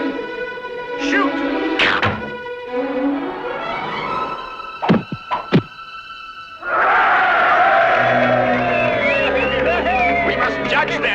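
Arrows strike an archery target at a contest in a Robin Hood cartoon, heard as a cluster of sharp, close thuds over orchestral music, followed by a swelling musical passage.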